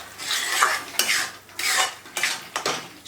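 Flour roasting in ghee in a pan for adadiya is stirred with a utensil that scrapes the metal in repeated sweeping strokes, loud and near, with no talk.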